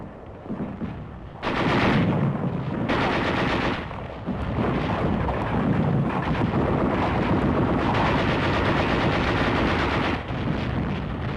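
Sustained heavy gunfire in a 1944 World War II battle against Japanese troops, with rapid machine-gun bursts and booming blasts, loud and continuous, swelling in waves with brief dips in intensity.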